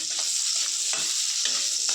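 Steady, loud sizzling of onions frying in a kadai, with a few scraping stirs of a utensil breaking up the hiss.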